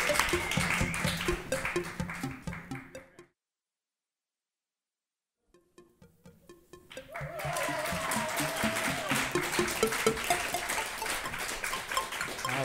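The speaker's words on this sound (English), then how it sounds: "how about a big round of applause for Nanaba Duncan?" Studio audience applause on a late-night talk show, rising in bursts, cutting to silence for a few seconds, then returning as sustained clapping that continues to the end.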